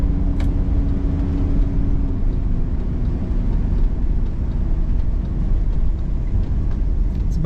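A 1969 Chevrolet Chevelle SS drives on a cold Minnesota morning, its engine rumbling steadily at close range in a continuous low drone, with road and wind noise throughout and no talk.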